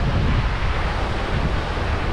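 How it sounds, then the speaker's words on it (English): Surf rolls onto Seminyak Beach in Bali: a loud, steady wash of waves mixed with heavy wind buffeting the microphone, with no voices. "This is a Seminyak Beach in Bali."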